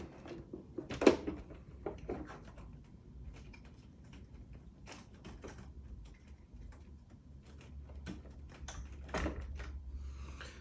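Cable unplugged and pulled free of a small plastic clip inside a Pioneer DDJ-SZ controller, heard as scattered close clicks, a sharp snap early on and light rustling handling noises.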